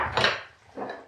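A spoon stirs salt into flour and suet in a bowl, two soft scraping swishes close by with a brief pause between.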